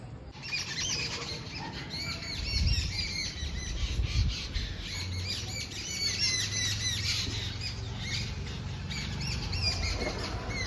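A flock of house sparrows chirps busily and continuously, dense overlapping chatter close by with no voices.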